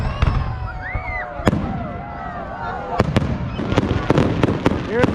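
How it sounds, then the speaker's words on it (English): Repeated sharp fireworks bangs, several in quick succession toward the end, with whistling streaks and crowd voices underneath. "Fireworks going to start here in a little bit."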